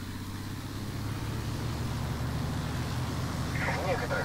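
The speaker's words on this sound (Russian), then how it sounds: "Увеличьте мощность двигателя, чтобы восстановить крейсерскую скорость." A propeller airplane engine in the video game War Thunder drones with a steady, even hum that rises slightly over a few seconds, and a voice talks over it.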